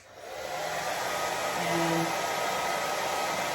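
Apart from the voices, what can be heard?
hair dryer blowing on high heat, low fan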